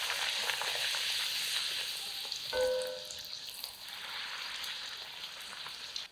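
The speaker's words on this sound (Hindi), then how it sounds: "अगर आपकी कढ़ाई बड़ी है और आपको प्रैक्टिस है तो एक बार में 2-3 पूरियाँ भी तल सकते हैं" Puris deep-frying in hot oil in a large kadhai give a steady, close crackling sizzle, with a brief clatter partway through as one is handled.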